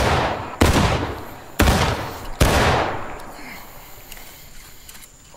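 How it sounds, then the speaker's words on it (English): Three loud musket volleys crack out in sequence in the Civil War game War of Rights, each sharp blast followed by a long rolling echo, with scattered distant shots afterward. "At the ready. Commence firing."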